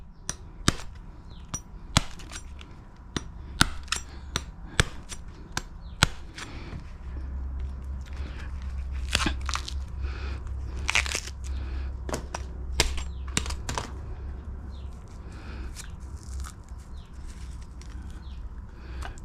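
Sharp chopping strikes land one after another at an uneven pace, crisp knocks of a blade cutting into something firm, with a low hum underneath.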